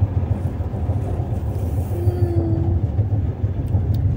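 Passenger train of Russian Railways running on rails, a steady loud low rumble and rattle heard from inside the carriage, with a faint tonal whine partway through.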